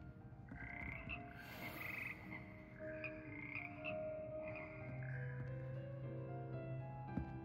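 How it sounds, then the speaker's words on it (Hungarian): Frog choir croaking in Hogwarts Legacy, layered croaks and tonal calls overlapping in a continuous, harmonized chorus that holds steady throughout, with no talking. "Békakór."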